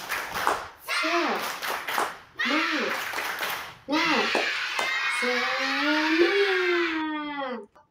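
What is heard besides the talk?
children clapping, spirit clap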